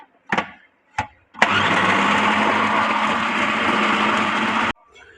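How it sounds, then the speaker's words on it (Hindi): After a couple of sharp clicks, a kitchen electric grinder starts and roars loudly and steadily for about three seconds while chopping pieces of leftover roti, then stops abruptly. "तीनों रोटियों के टुकड़ों को ग्राइंडर में डाल के ग्राइंड कर लेना है।"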